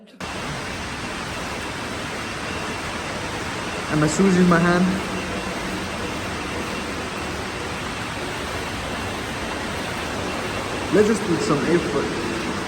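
Flood water rushing through streets in Dubai, UAE, a steady broadband roar of flowing water, while people speak briefly over it.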